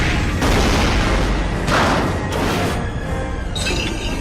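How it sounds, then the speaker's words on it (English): A tank shell blast in an anime battle: a loud, sustained roar of booming explosion noise with several heavier surges and crackling, debris-like breakup throughout, no talk. "the tank's shell was able to really blast him backwards"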